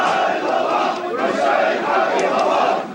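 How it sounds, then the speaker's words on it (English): An angry crowd outside King Abdullah's palace in Jordan shouts for revenge after the killing of pilot Muath al-Qasasbah, a dense, loud, continuous roar of many voices chanting and yelling together, swelling slightly throughout. "an angry crowd calls for revenge for the grotesque killing by ISIS of Jordanian pilot Muath al-Qasasbah"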